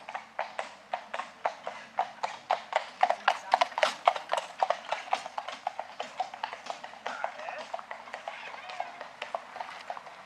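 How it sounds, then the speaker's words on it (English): Several horses' hooves clip-clop steadily along a paved cycling route between Utrecht and Amersfoort, a fast run of sharp, fairly close strikes with no talking. "there were horses stopping for the other horses"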